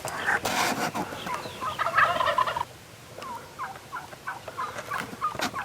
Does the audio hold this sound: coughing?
no